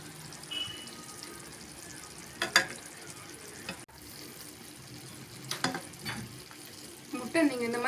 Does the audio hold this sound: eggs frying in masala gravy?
yes